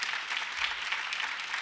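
An audience at a live televised singing competition applauds a singer, a brief burst of steady, dense clapping with no one speaking over it.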